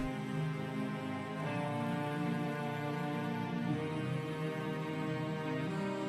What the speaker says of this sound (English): Then I added this cello.